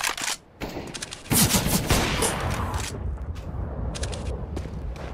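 Rapid automatic gunfire in the video game CS:GO, dense loud bursts of shots crackling almost continuously after a brief early gap, with sharp single cracks among them.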